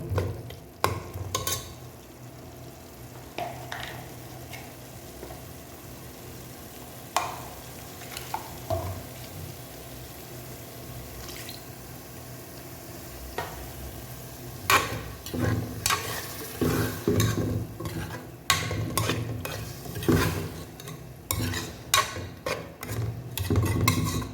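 A spoon scrapes and stirs a paste frying in a pan for Chettinad beef gravy, soft steady sizzling underneath with bursts of clattering stirring that grow busier toward the end.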